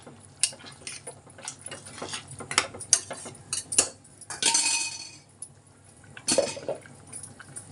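Chana dal being stirred into mutton curry in a metal pot, with a spoon clinking and scraping against the sides in irregular close bursts and occasional wet, sloshing stirs.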